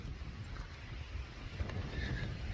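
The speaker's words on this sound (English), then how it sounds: "it's windy." Wind buffets the microphone on a hiking trail, a low, gusty rumble that rises and falls irregularly, fairly faint overall and growing slightly stronger toward the end, with no speech.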